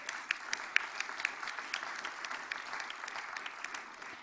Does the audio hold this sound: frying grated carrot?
no